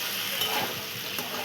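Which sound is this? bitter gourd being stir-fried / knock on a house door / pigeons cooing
bitter gourd being stir-fried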